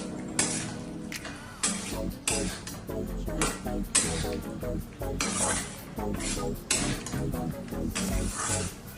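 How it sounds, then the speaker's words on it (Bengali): Fried potatoes and spices stirred in a pan while cooking Bengali methi aloo dum, with steady scraping and clinking of a spoon against metal and rhythmic bursts throughout. "আলু দেওয়ার পরেও আমরা নাড়তে থাকবো"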